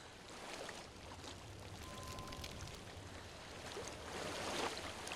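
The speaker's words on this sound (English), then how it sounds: "I hear water. Go to it." Steady flowing water in the dark world of Hellblade: Senua's Sacrifice, a low continuous wash with faint rumble that swells slightly near the end, heard alone without talk.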